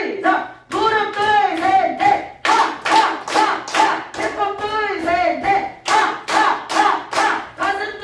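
A group claps hands in loud, rhythmic bursts during a laughter exercise, with voices laughing and calling out between and over the claps.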